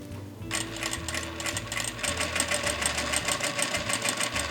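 A Vevor industrial sewing machine runs steadily while stitching a double-layered ribbon tutu. It gives a loud, fast mechanical whir with a rapid needle chatter that starts after a brief pause, and the motor hum rises and dips in short bursts.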